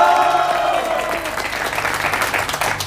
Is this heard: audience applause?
yes